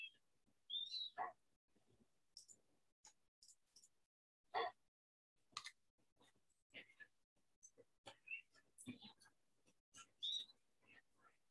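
Creature calls in the creature stage of Spore, with a scattered run of short chirps, squeaks and grunting bursts separated by silent gaps, fairly quiet and close.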